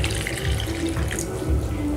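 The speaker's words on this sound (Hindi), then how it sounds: "अब हम इसमें पानी डालेंगे।" Water running and pouring into a pan of thick shahi paneer gravy, a steady continuous splashing stream lasting throughout, close and moderately loud with no voices.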